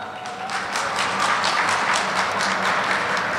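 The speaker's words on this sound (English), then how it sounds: "Give yourself an applause." Audience applause at a Somali Day at the Capitol gathering: steady, dense clapping from a crowd, continuous and even in level for a few seconds with no voices over it.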